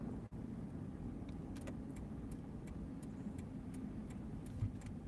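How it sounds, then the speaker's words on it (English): A Dodge Durango pulls up at an intersection, heard from inside a moving car as a steady, low road and engine rumble with faint, regular ticking. "here's a car pulling up. There's a Dodge Durango right as I'm coming to the intersection"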